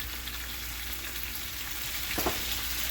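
Chicken pieces sizzle steadily in a pan, a continuous close crackle with a brief louder stir or flip near the end.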